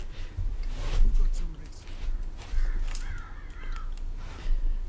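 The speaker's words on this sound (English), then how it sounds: "Crow on the branch." A crow caws in the Everest VR game, several harsh calls heard under a person's continuous excited talk and a steady game backdrop.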